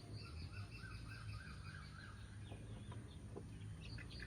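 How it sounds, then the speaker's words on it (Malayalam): A hen clucks in a village yard: a faint, repeated run of short clucks over a steady low background hum, with no talking. "മണിയെ നമ്മുടെ കോഴിയെ പിടിക്കാൻ നിന്നെ അമ്മ അടിക്കുവേ"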